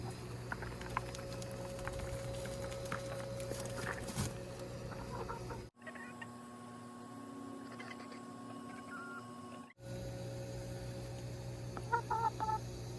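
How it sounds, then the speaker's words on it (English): Backyard chickens cluck and murmur softly at a distance over a steady background hum, faint scattered calls with no clear talk. "let's take this out to the chickens"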